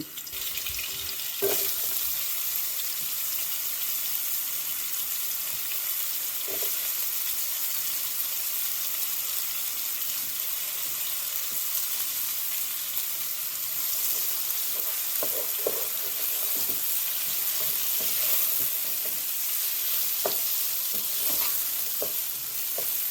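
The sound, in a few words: garlic and onions sautéing in a pan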